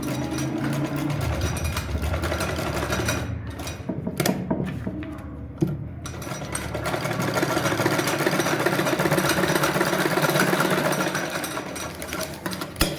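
A sewing machine stitches the curved neckline of a shirt in steady mechanical bursts, its whirring rattle briefly pausing and then resuming close and loud, with no voices.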